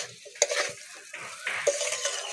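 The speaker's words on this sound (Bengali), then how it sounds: "হালকা হাতে নেড়ে নেড়ে চিংড়ি মাছ আর কচুর লতিটা মিশিয়ে নেব মশলার সঙ্গে" Shrimp and taro stolons are turned with spices in a pan with no water added, giving soft scraping stirs and a faint sizzle, with a couple of light utensil clinks on the pan, quiet and close.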